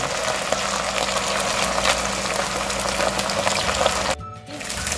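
Battered pork pieces for sweet and sour pork sizzle and bubble loudly in hot oil during frying, a dense steady crackle that dips briefly near the end.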